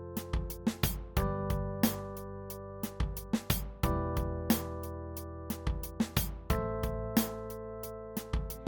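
Full arrangement of a song built in FL Studio with every track playing at once: steady percussive hits on a regular beat over sustained tonal layers and low bass, clean and without any voice.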